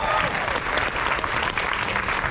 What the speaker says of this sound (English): How about a round of applause for the first question?